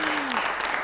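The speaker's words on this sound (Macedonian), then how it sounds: "Па да ги поздравиме со еден аплауз странските служби." A brief burst of audience clapping on a comedy news show, moderately loud and dense, with a voice sliding briefly beneath it at the start.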